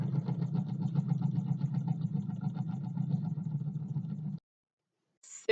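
A homemade Stirling engine runs with a low, rhythmic, pulsing hum for about four seconds, close and steady, then falls silent before a brief burst of noise at the end.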